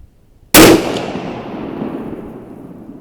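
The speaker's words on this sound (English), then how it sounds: "this gun was dead cold when I first started shooting" A single loud, close rifle shot from a 6.5 Creedmoor firing a 123gr ELD-M handload with Varget powder, a sharp crack followed by a long rolling echo that fades slowly.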